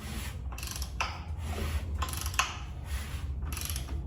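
A 1967 Chevelle engine being turned over by hand with a tool on the crank snout gives repeated mechanical ratcheting clicks and rubbing in a steady rhythm, close and moderately loud over a low hum.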